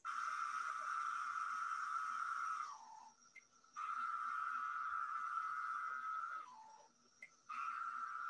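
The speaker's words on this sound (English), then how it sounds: "So let's listen to the courtship song of the septendecim." Male Magicicada septendecim periodical cicada singing its courtship song: a loud, steady buzzing drone that runs for a few seconds, drops briefly with a falling slur, then resumes in repeated phrases.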